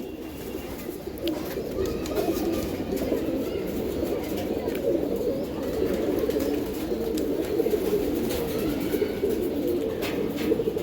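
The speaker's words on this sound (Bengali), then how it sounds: "এই পেয়ারটা একটা ডাইরেক্ট কবুতরের বাচ্চা" Pigeons at a loft breeding Giribaz highflyer and racing birds, cooing steadily in a soft, continuous low murmur throughout, with faint chirps and a little background noise.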